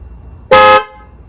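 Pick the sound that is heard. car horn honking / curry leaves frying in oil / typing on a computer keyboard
car horn honking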